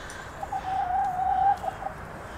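Several Australorp hens murmur and cluck softly inside an enclosed chicken coop, a steady low chatter with a slightly louder run of calls in the middle of the short stretch.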